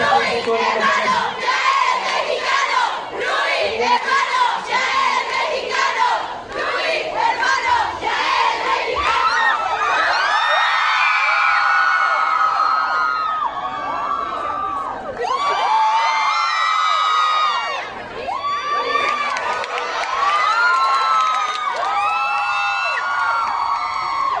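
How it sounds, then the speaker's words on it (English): Fans at a Louis Tomlinson press conference in Mexico screaming and cheering, loud high-pitched shrieks and whoops from a large crowd surging in waves, with brief dips before renewed bursts of yelling. "Vamos a darle un fuerte aplauso que se sienta nuestro agradecimiento"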